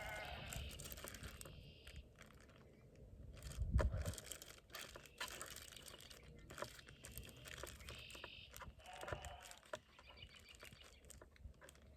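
Distant sheep bleat a few times over quiet outdoor background noise, with some crinkling and soft patter nearby.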